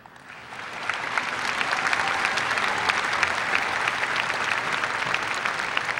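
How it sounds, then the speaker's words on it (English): A high school graduation audience applauds faculty and staff, clapping rising over the first second into a loud, full ovation with sharp individual claps standing out, sustained to the end. "give a round of applause to the tremendous effort of the Toro faculty and staff that made your successes possible"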